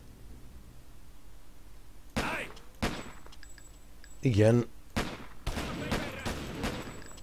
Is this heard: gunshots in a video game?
yes